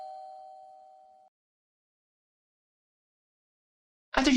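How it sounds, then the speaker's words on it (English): A single clean electronic chime from a front-door doorbell in a visual novel game rings alone and fades out, followed by a long silence before a burst of other sound at the very end. "she approaches the front door and rings the doorbell"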